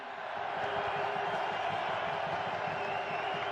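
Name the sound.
crowd cheering at Lord's cricket trophy presentation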